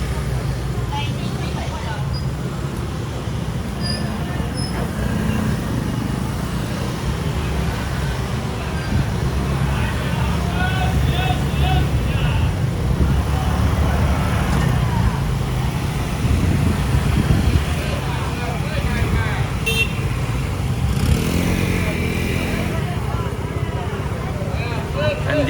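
Busy morning market street traffic in Yilan, with cars and motorcycles passing in a steady low rumble, continuous and moderately loud beneath a voice talking throughout.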